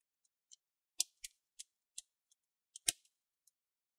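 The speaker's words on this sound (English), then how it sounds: "twist to release those clips you want to hear that clicking sound" A series of sharp plastic clicks and snaps as the case clips of an Asus Vivobook Flip 14 TP410U laptop are released, about ten in all, spaced irregularly over a few seconds in a quiet setting.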